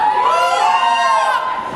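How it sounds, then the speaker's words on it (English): A live audience at an event in a Crowne Plaza venue cheers and shouts loudly and continuously, a dense crowd roar with high-pitched screams filling the whole stretch. "If you are in your 20s, give me a cheer."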